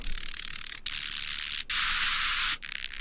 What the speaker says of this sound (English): which is basically basses and white noise distorted together and then high pass